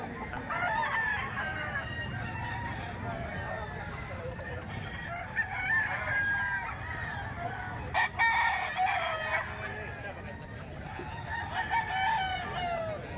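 Roosters crowing repeatedly at a poultry sale in Bukawi, several calls at moderate distance over a busy outdoor background with intermittent clucking and someone talking.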